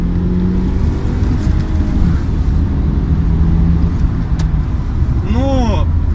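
Honda Accord Type S sedan pulling hard under acceleration, its engine note droning steadily and rising near the microphone inside the car, ending with a short whooshing sweep.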